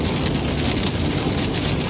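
Heavy rain from a severe storm near Ralls, Texas pours steadily and loudly, a dense, continuous roar of drops on a surface with no break.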